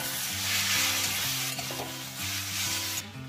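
Garlic paste and boiled prawns sizzle in a hot pan, a bright continuous fry close by with stirring scrapes and soft clinks, no voices over it.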